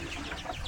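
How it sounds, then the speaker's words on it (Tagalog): Chickens kept around a simple little house give a quick burst of soft clucking, close by and brief. "Ang daming manok dito, Dar."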